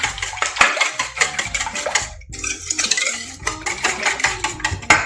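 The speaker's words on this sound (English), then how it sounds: "Let's give this a little whisk." A whisk beats a bread pudding mixture in a bowl: rapid, irregular metallic clicks and scrapes close up, with a brief pause in the middle before the whisking resumes.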